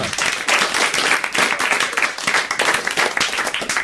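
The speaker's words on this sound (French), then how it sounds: "On peut applaudir notre ami." Studio audience applauding on a French TV game show, a dense steady wash of clapping hands filling the whole stretch, loud and close with no talk over it.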